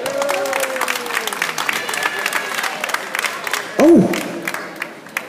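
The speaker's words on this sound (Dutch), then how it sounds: "mag ik een warm, liefdevol Twents applaus voor onze Sherry May" A crowd claps and cheers steadily, dense applause throughout with some whoops and a brief loud shout near the end.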